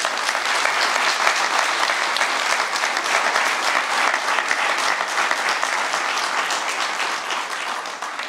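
Loud, sustained applause from a large audience at a ceremony for the opening of a restored palace, dense and steady throughout without pause.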